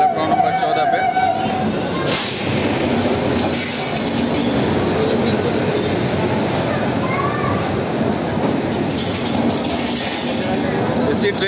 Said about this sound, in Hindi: हमारी ट्रेन आ रही है बिहार संपर्क क्रांति एक्सप्रेस इन करते हुए प्लेटफॉर्म नंबर 14 पे